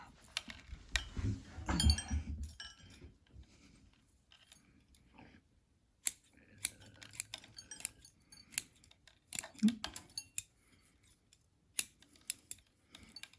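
Scissors snipping through plant roots during repotting, close and crisp, with scattered single cuts and small clusters of snips separated by pauses and soft handling rustles, no talking.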